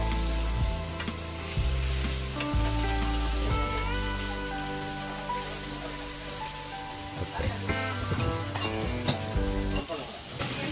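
Hilsa fish and eggplant slices frying in mustard oil at a riverside eatery near Mawa, with a steady crackling sizzle heard under prominent music and some background voices.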